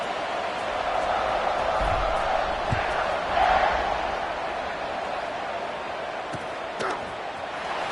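A stadium crowd at a Baylor vs Florida college football game roars before kickoff, a broad, steady rumble of many voices with a swell partway through and a few scattered thuds.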